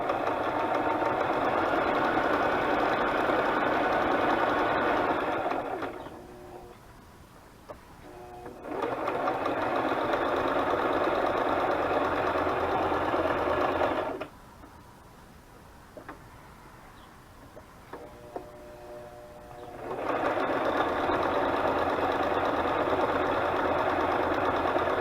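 A sewing machine stitches a page of a butterfly journal in three loud, steady bursts of whirring, separated by pauses filled with faint handling clicks and rustles.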